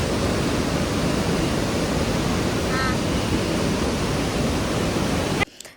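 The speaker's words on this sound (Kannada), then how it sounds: "ಇದು ನಂದಿನಿ ನದಿ ಅಂತೆ. ಸೊ ಎಷ್ಟು ರಭಸವಾಗಿ ಫೋರ್ಸಾಗಿ ಹರಿತಾ ಇತ್ತು ಗೊತ್ತಾ" The Nandini river near Kateel temple rushing forcefully, a loud, dense, unbroken roar of flowing water that cuts off abruptly at the end.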